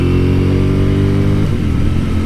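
A 2023 Ducati Streetfighter V4 SP2 with a dry clutch drones loud and close while riding, its engine holding a steady pitch before easing off and dropping partway through.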